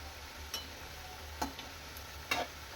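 Rice flour chakli frying in hot oil gives off a faint, steady hiss, broken by a few sharp pops and crackles spaced about a second apart.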